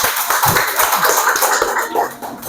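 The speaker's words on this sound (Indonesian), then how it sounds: "Tepuk tangan semuanya." Schoolchildren in a classroom applauding together, a dense continuous wash of clapping hands mixed with chatter and voices, loud and close.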